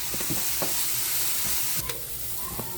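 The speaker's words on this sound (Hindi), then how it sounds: "बाद हम शिमला मिर्च डाल रहे हैं, इसको भी थोड़ा सा सौते कर लेंगे" Capsicum and other vegetables sautéing over high heat for white sauce pasta, a steady sizzle close by with a few sharp scrapes and stirs of the spatula in the pan, and no voices.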